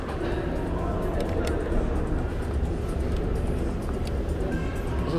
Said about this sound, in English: This is the hand dryer.